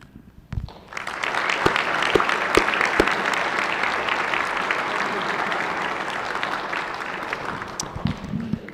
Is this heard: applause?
yes